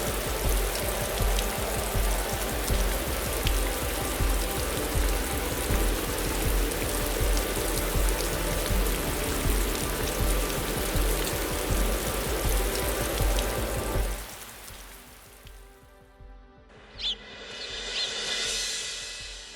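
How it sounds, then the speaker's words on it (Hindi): Steady heavy rain patters in a Hindi animated village tale, a dense unbroken downpour that holds for most of the stretch before cutting out near the end, leaving a quiet gap and a brief soft rise. "तभी आसमान में काले बादल छा गए और बारिश होने लगी"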